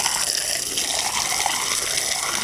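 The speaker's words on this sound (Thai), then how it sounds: "เดี๋ยวสิมาหดน้ำให้ดินบล็อกมันแข็งเนาะ" Steady broadband hiss of water spraying from a hose onto homemade earth blocks, continuous and fairly loud throughout with no talking.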